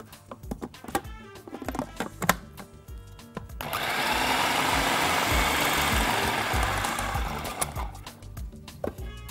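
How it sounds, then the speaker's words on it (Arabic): A food processor grinds salt, pepper and other ingredients for chicken steak, a loud steady whirring burst of about five seconds that rises and then fades, set between quieter clatter and handling noises. "نطحن ده كله مع بعضه الأول"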